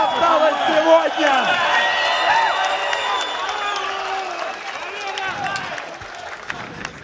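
An arena crowd at an MMA fight event applauds and cheers with a sustained wash of clapping and hubbub, while a commentator talks loudly over it.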